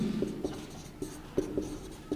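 Pen writing on paper while working a class 10 maths problem, short scratchy strokes and taps in an irregular rhythm, close and clear with no talk.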